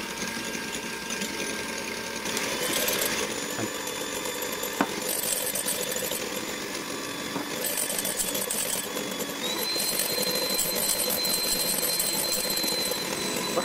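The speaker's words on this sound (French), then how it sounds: "avec notre batteur, on les monte en neige, tout simplement" An electric mixer whipping egg whites with salt, a loud continuous motor whine that holds steady and shifts slightly in pitch partway through, with no one speaking.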